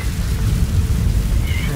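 A thunderstorm with heavy rain in the video game Metal Gear Solid V: The Phantom Pain, heard as a steady, dense low rumble and wash of rainfall that continues without a break for the whole moment.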